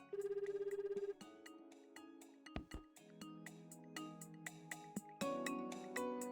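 A telephone ringing in the visual novel Fate/Hollow Ataraxia, a quick repeating electronic ring at the start, followed by soft chiming game music with scattered clicks and tones.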